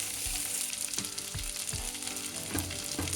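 Two large potatoes cut into big chunks fry in hot oil in a pan for a black-eyed pea curry, giving a steady, close sizzle with occasional soft stirring scrapes and no talking.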